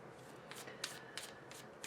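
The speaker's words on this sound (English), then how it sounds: "I won't shuffle this much between each reading" A deck of tarot cards being shuffled by hand, several soft riffling bursts in quick succession, close but quiet.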